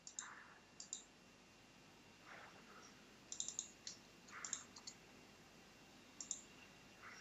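Quiet computer mouse clicks sound one at a time and in small clusters, close and faint with no talking.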